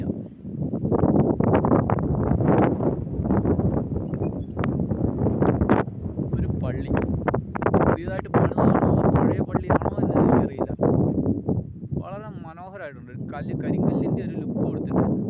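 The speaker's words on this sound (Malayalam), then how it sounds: "കാരണം ഭയങ്കര കാറ്റാണ് ഇവിടെ." Strong wind buffets the microphone on a hillside tea estate at Helibaria in the high range, a loud, continuous roar with gusty surges throughout, while a person talks over it.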